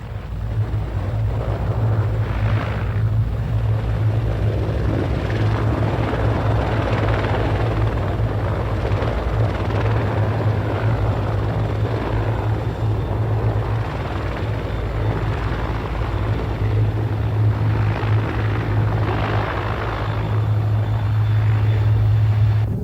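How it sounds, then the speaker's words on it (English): An Israeli Air Force CH-53 heavy transport helicopter, modified for desert operations with large drop tanks and air filters, runs with a loud, steady rotor thump and deep engine drone throughout, close and unbroken, with no voices. "The Israeli CH-53s have been specially modified for operations in the desert."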